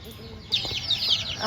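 Pandem fighting-breed chickens cluck and squawk nearby in quick, sharp calls, close and fairly loud, with a murmur of background noise.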